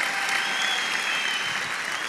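Steady, dense applause from an audience at a religious testimony gathering, many hands clapping evenly throughout with no pauses.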